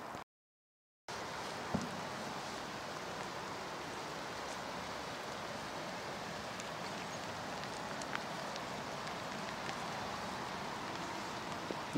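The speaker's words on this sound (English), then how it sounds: "It's raining really heavy now" Steady, dense hiss of heavy rainfall on the Rochdale Canal, continuous and even after a brief silent gap at the start, with occasional faint drips.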